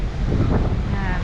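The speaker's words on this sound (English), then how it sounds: "Pretty windy today." Wind on the deck of a cruise ship at sea, with a storm nearby, buffets a microphone with a continuous low roar and rumble.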